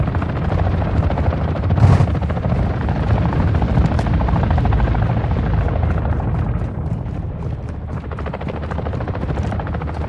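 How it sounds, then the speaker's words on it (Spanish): Cargo helicopter in Call of Duty Modern Warfare 2 arriving with a loud, steady rotor roar that fills the whole stretch, a brief sharper burst early on, no voices. "Helicóptero de carga, en camino."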